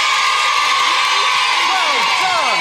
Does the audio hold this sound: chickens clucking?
no